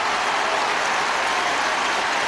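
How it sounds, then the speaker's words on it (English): At a Gaelic football qualifier between Kerry and Tyrone, a stadium crowd greets a score with a steady, dense wash of applause and roaring that holds at one level throughout. "The crowd roar to greet that score."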